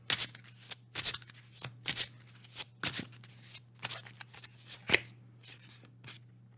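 Tarot cards being shuffled by hand, a series of crisp riffling bursts and soft taps at an irregular rhythm, close and fairly quiet over a steady low hum, with no talking.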